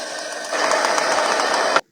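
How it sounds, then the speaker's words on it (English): A blow dryer runs steadily on a painted wood tray for a craft project, a continuous close whooshing hum that starts softer, swells after a moment and cuts off abruptly at the end. "I'm going to hit it with a blow dryer because I don't think it's completely dry"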